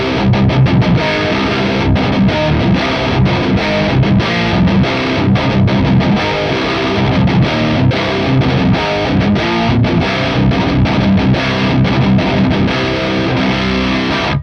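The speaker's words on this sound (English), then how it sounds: "now we're going to switch over to the distortion channel" An electric guitar played through an Orange Crush CR120 amp on its distortion channel churns out loud, dense, heavily distorted chords and riffs, continuous and rhythmic, with no talking over the playing.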